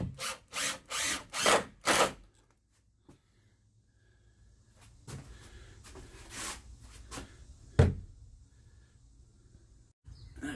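A power drill driving screws into the legs of a shed shelf, several loud close whirring bursts in quick succession, then quieter handling knocks and a sharp clunk.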